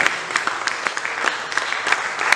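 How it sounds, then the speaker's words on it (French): A church congregation claps in praise, uneven bursts of hand claps from many people rising and falling for a couple of seconds. "Est-ce qu'on peut acclamer pour la parole de Dieu?"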